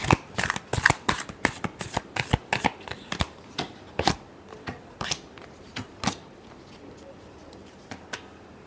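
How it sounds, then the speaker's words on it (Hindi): Tarot cards being shuffled by hand in a rapid run of crisp, close riffling snaps that thin out toward the end, with no talking over them. "Last shuffle."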